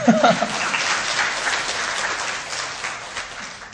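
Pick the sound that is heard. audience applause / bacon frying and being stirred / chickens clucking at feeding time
audience applause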